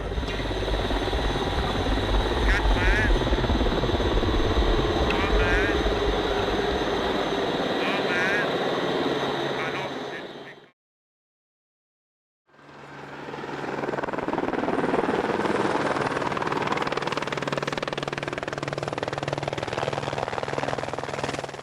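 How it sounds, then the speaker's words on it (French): Eurocopter Écureuil B3 helicopter landing at the Arolla heliport in the Alps, its loud steady rotor and turbine roar filling the air, cutting out briefly, then returning as strong as before. "atterrit avec l'écureuil B3, le fleuron de la flotte hélicoptère d'Air Glacier"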